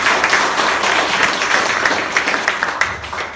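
Sustained applause from an audience at an indoor insurance agents' gathering, dense steady clapping with a few louder individual claps standing out, continuing throughout without a break.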